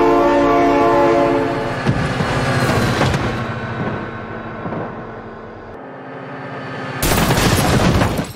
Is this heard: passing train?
yes